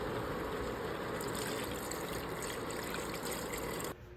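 Water poured into a cooking pot for salmon belly sinigang with radish, fish sauce and pepper, a steady close splashing stream that stops abruptly near the end, leaving quieter room tone.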